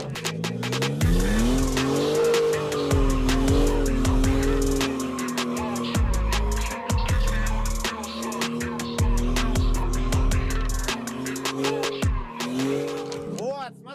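A car drifts in steady laps on a ring-style track, its engine droning and revving as the tires squeal in long repeated bursts, loud and close throughout.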